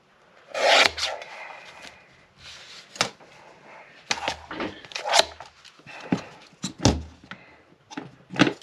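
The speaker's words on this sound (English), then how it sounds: "I'm just going to trim some off of each side." Trimming material off each side, heard as irregular scraping, rubbing and snipping sounds close up, with sharp isolated clicks and pauses between strokes.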